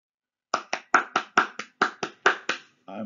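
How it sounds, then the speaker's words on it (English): One person claps hands alone after a moment of silence, about ten sharp, evenly spaced claps at a brisk, steady rhythm, followed at the end by a softer sound that begins just as the claps stop. "I'm applauding for the United States for being the number one most generous country in the world"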